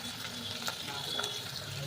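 Capsicum and fenugreek leaves frying in a pan, giving a soft continuous sizzle with light stirring, faint and steady throughout.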